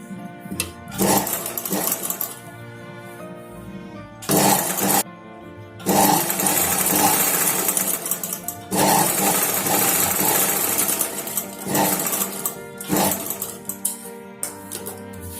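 A sewing machine stitching tucks on a blouse runs in loud, steady mechanical bursts of several seconds each, broken by brief pauses as the fabric is adjusted.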